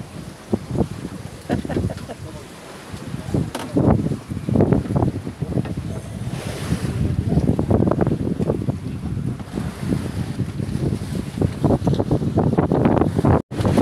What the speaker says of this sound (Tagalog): Yan mga idol, laki ng alon.